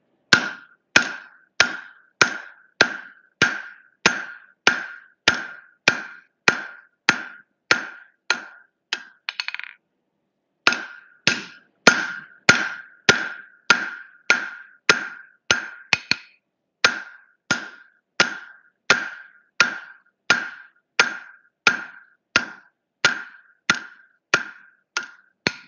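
Steady rhythmic hammer blows on the horn of a Hay Budden anvil while forging hammer tongs, loud ringing metallic strikes about one per second, with a brief pause partway through.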